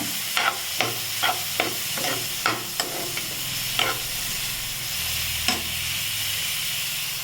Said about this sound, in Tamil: எண்ணெய் ஊற்றி நல்லா வதக்கிக்கோங்க